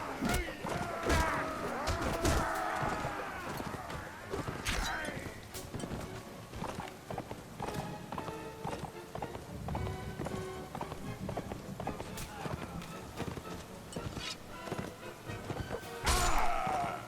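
Hooves of a galloping horse in Mount & Blade Warband pound in a fast, steady clip-clop rhythm through a chaotic battle, with crashes, hits and a person talking over the noise.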